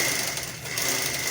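A sewing machine stitches a sleeve border in a quick, steady whirring run, close and fairly loud, with a slight dip in the middle before picking back up.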